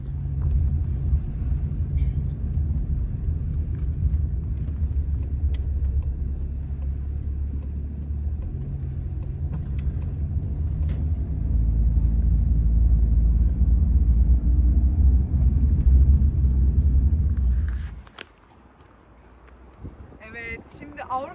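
Steady low engine rumble inside a moving car on a drive toward Mülheim, Germany, continuous and fairly loud for most of the stretch, then dropping off sharply near the end as the motion stops, followed by faint shuffling.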